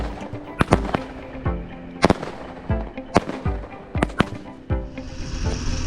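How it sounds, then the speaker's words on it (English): Fireworks set off at sunset on New Year's Eve, seen from a boat at sea, burst in loud, sharp cracks and booms spaced irregularly, with rumbling echoes and crackle between the blasts. "put on an excellent fireworks display"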